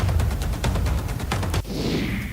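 Fireworks set off by party workers in a city street to celebrate an Olympic bronze medal: a rapid, loud string of crackling bangs and pops, then a fizzing, whistling burst.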